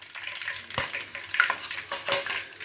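Paneer fries lightly in oil in a pan, a soft steady sizzle broken by a few sharp stirring scrapes and clinks of a utensil against the pan.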